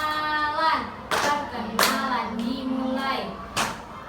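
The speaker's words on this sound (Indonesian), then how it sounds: "Tepuk perkenalan" Children at school clap in time with a chanted introduction routine, several sharp hand claps spaced across sung, rhythmic children's voices.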